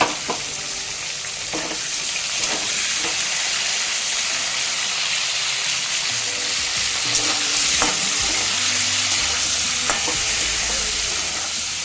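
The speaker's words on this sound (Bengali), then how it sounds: "বন্ধুরা দেখুন আলু গাজর বরবটি চার মিনিট ধরে ভেজে নিচ্ছি" Potatoes, carrots and long beans frying in a pan for a Bengali mixed-vegetable curry, a continuous dense sizzle with occasional stirring clinks, loud and steady throughout.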